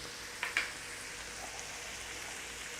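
Onions, garlic and dried thyme sautéing in butter in a pan, a steady close sizzling hiss with a couple of brief sharper pops near the start.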